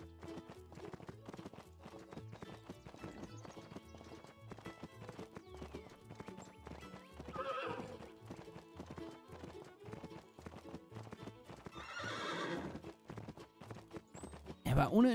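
Horse hooves clip-clopping in steady rhythm in the Animal Doctor video game, with a whinny rising near the end amid a busy background of game music and effects, while a person talks over much of it.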